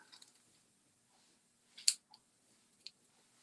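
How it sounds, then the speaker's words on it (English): Scissors snip through paper in a quiet setting, a couple of faint, brief crisp cuts separated by near silence. "Scissors."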